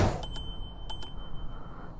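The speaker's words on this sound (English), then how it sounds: "and a bell." Two quick pairs of bright metallic dings from the handlebar bell of an isinwheel S10MAX electric scooter, sounding alone and close over a faint low rumble.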